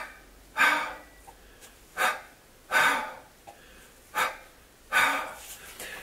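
Heavy breathing during a Pilates exercise comes as five strong, rhythmic breaths spaced about a second apart, close and clear over a quiet background.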